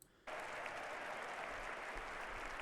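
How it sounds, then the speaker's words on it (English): A crowd at a Donald Trump speech bursts into applause and cheering, the loud, dense clapping starting abruptly after a brief quiet moment and holding steady to the end. "They're crowding and cheering."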